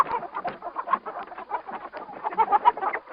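A person imitates a chicken with a rapid run of clucking, bawking sounds, close and fairly loud, sustained for a few seconds.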